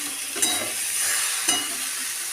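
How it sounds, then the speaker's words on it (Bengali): Kohlrabi frying in a pan gives a steady close sizzle, broken by two louder scraping stirs at roughly one-second spacing. "পুরোপুরি ভাজা হয়ে গেছে"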